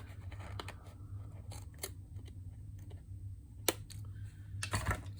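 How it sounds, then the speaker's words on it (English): Scissors trimming a vintage-style journal page, with several sharp, close snips and clicks spaced irregularly over a low steady hum. "Okay, I'm going to trim this just a bit."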